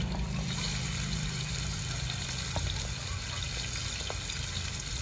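Pabda fish frying in lightly heated mustard oil, giving a steady, even sizzle and crackle that holds at a constant level throughout.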